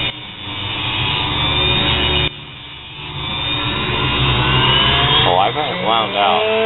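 Homemade mini bench grinder driven by a sewing machine motor, whining steadily and loud with a brief dip partway through, then a speed change near the end.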